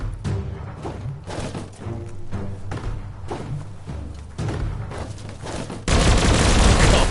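Video game gunfire rattles in rapid, loud bursts at an explosive barrel, ending in a heavy, sustained blast that fills the last second.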